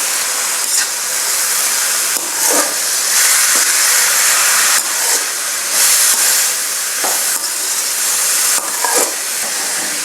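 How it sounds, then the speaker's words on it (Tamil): Snake gourd with curry leaves stirred and frying in a pan, a steady loud sizzle with scraping stirring strokes recurring every second or so, close and continuous, no talk. "புடலங்காயை கொட்டி நல்லா கிண்டி விட வேண்டியது தான். நல்லா திருப்பி திருப்பி கிண்டி விடுங்க."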